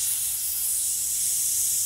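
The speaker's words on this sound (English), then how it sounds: "Just spray it out into the rag." An airbrush sprays water into a rag during cleaning, a constant loud, high airy hiss that holds steady throughout with no talk.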